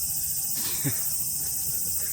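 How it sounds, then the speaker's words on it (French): Cicadas in Kobe, Japan, a constant high-pitched droning buzz holding steady throughout, with a brief low voice sound partway through. "Les gars, je sais pas si vous entendez les cigales."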